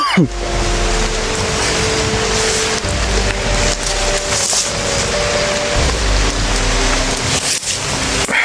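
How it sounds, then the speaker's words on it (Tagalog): Heavy rain arrives and pours steadily in a dense, continuous hiss of drops on surfaces, with a low rumble underneath throughout. "Parating na yung ulan, ha?"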